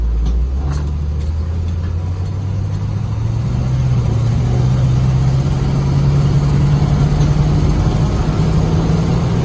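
A 1981 Chevrolet Camaro Z28 on the move, its engine droning loud and close with pitch slowly rising as it accelerates, a few faint jingling clicks early on and no talk.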